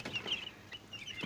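Broiler chicks cluck and peep faintly in soft, high, overlapping calls, with no voices present.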